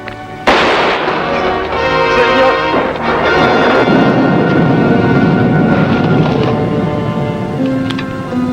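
A gunshot in a classic Western show rings out as a sharp, loud crack that opens a busy, reverberant stretch of sound, with a voice coming in briefly.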